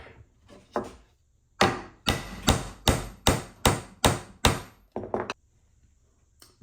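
Sharp hammer blows drive a big nail, about eight even, close strikes in a steady rhythm, preceded and followed by a few lighter taps.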